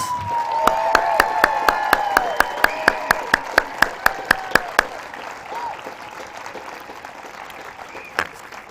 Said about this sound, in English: if we can give all of our students one final round of applause